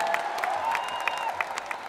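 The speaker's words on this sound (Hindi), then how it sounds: "दोनों हाथ उठाकर ताली बजाकर स्वागत करें नगीना के लोगों का।" A crowd at a political rally in Nagina claps in a dense, steady patter with a few louder claps standing out, close and continuous throughout.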